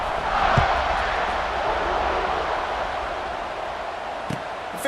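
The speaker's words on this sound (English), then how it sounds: "this crowd is buzzing after that last score" A football stadium crowd roars in a broad, steady wash of noise after a college touchdown, loud and sustained with scattered thuds and shouts.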